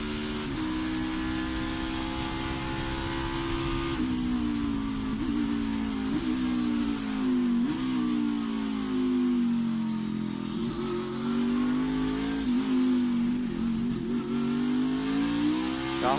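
NASCAR race car powering through the final turn of a damp track, its engine note rising and dipping steadily with hesitant throttle, loud and continuous with no voices.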